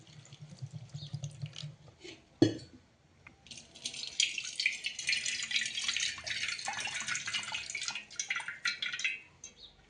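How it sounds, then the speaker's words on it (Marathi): After a single clank, water runs steadily and splashes for several seconds as poha is rinsed under a tap, then stops. "चांगलं स्वच्छ धुवून घ्यायचं"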